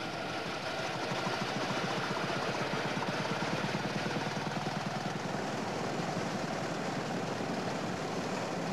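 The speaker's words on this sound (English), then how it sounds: "The engine's running beautifully as far as I'm concerned for the time I put into it." A vintage car engine runs steadily, giving a quiet, even, rhythmic chugging that continues throughout with no voices.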